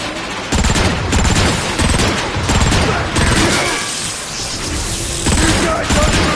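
Rapid gunfire and grenade blasts in the Transformers: Fall of Cybertron game, dense sustained bursts of shooting with heavy booms, loud and close.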